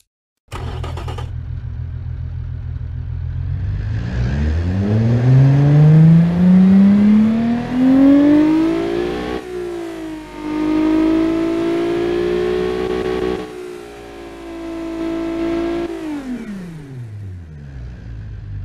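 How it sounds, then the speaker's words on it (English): A simulated Nissan 370Z engine cranks and starts, then revs up with a rising, sustained whine, drops, revs again and holds steady, loud and continuous throughout. "let's go ahead and start up this engine and hear how it sounds"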